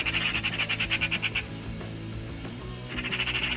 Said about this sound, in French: Il y a 2 oiseaux qui chantent entre eux.